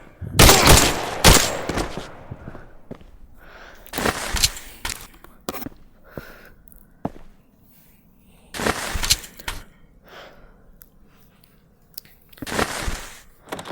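A nine-bang stun grenade goes off during a room breach, its sharp blasts arriving in loud clustered bursts with short gaps between them, each crack followed by a brief ringing tail.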